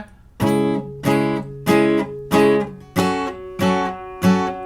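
Seven strummed acoustic guitar chords from an easy version of a song, each ringing out briefly before the next, at an even, unhurried pace with no voices.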